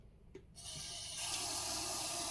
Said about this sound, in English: So here we are turning on the faucet.